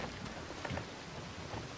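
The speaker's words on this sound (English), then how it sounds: "Oh, it's raining again. Seems like this place is always raining." Steady rain in the Red Dead Redemption 2 game, a soft even hiss of falling drops with a faint low rumble beneath, continuous and moderately quiet with no talk.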